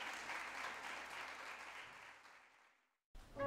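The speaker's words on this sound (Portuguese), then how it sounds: "Os três músicos sorriem e aplaudem." Three musicians applaud inside a theatre, a faint, steady patter of clapping that fades out into silence before an abrupt cut.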